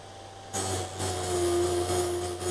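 A Vevor drill bit sharpener grinds a drill bit, starting with a sudden high whine that holds steady with small dips for about two seconds, close and fairly quiet, with no talk.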